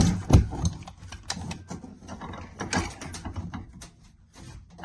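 A Makita drill chuck is worked loose with a large Allen key, giving close, irregular metallic clicks, scrapes and ratcheting knocks of tool against metal, some sharp and loud, others faint.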